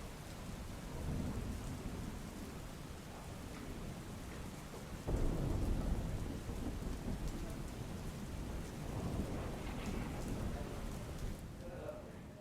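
Torrential rain pours steadily in Navsari, Gujarat, a dense, continuous roar, with a low rumble of thunder swelling midway before the downpour carries on.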